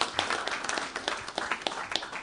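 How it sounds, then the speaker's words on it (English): A small group at a city commission meeting claps briskly nearby, distinct hand claps overlapping in a short burst of applause. "So let's give Anthony a round of applause."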